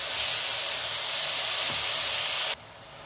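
Fenugreek and dwarf copper leaves sizzle and hiss steadily in a hot pan as they are stirred, a loud broadband frying sound that drops off abruptly near the end.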